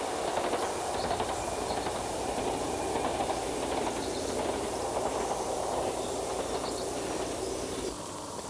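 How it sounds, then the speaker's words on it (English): A train rumbles steadily across the Arten Gill Viaduct in Northern England in 1996, with a continuous rolling roar and faint clatter, sustained throughout, with no voices. "we can watch the trains cross the magnificent Artangill Viaduct."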